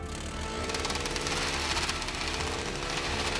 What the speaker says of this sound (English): It's shredding this paper.